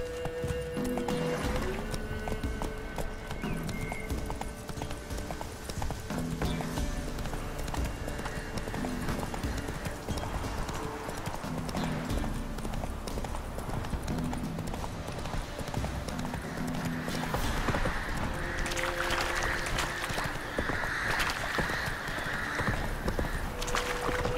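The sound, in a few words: horse galloping in a video game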